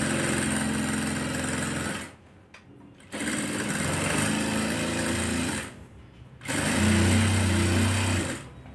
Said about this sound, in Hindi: दोबारा से सिलाई शुरू कर देंगे।